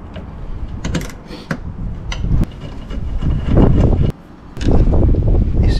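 Wiper arm on a Smart Fortwo 451 being worked off its splined spindle, with loud close creaking and grinding, mechanical knocks and rattles over constant wind noise outdoors.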